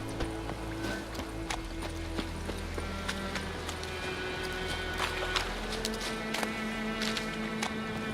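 Rapid clip-clopping hooves of a horse in The Witcher 3 gallop steadily over a constant low rumble and a busy background, with scattered sharp clicks.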